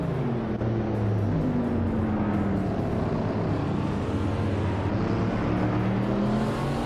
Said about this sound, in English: Mafia Mavi is driving a 2009 Holden Commodore GTS